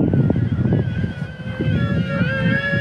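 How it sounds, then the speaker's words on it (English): Strong wind buffets the microphone while a KFPLAN KF603 flying boat plane is in flight, a loud, steady rumble under a thin electric motor whine that wavers in pitch. "definitely this wind is going to shorten the flight time of this"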